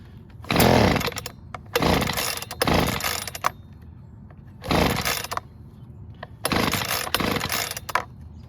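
A Husqvarna 125B handheld leaf blower with a small two-stroke engine and a fuel-line fault, revving in loud, close bursts that surge and drop back to a rough idle several times.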